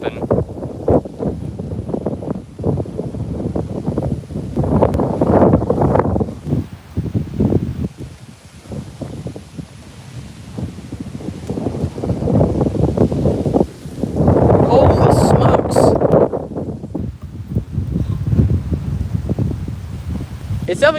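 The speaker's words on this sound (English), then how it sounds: "It's definitely going to be a little bit hard for me to hear the horn due to how bad the wind is right now" Strong storm wind batters an outdoor microphone in Hammond, Louisiana, with loud, gusty roaring bursts that rise and fall in irregular surges throughout.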